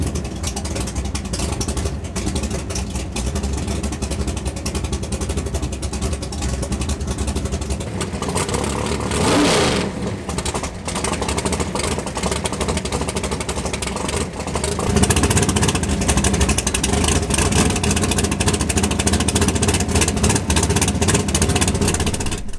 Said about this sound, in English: let's bolt this steering wheel into place and start up this engine